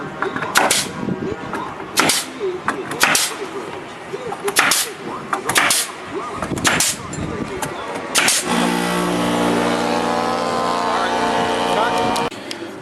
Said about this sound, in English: And start nailing using Makita oil nailer.